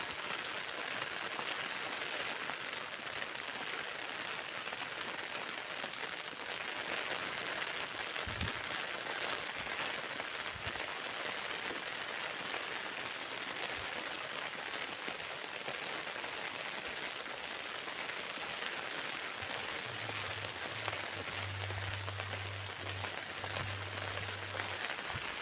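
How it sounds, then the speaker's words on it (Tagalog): Heavy rain pouring down steadily, a constant dense hiss of drops on surfaces with a low hum appearing toward the end. "kasi ulan talagang umuulan"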